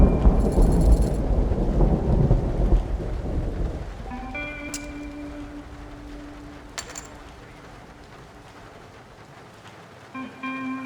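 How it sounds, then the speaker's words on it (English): Heavy rain and a deep rumble of thunder in the video game Red Dead Redemption, loud at first and then fading to a quieter wash of rain, with a few musical or chime-like tones surfacing later. "Never seen it rain so much. Damn weather's all wrong these days."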